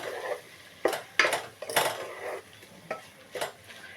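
A spoon stirs potato spinach curry in a pan, giving a handful of sharp scrapes and clinks at uneven intervals over a faint sizzle, with no talking.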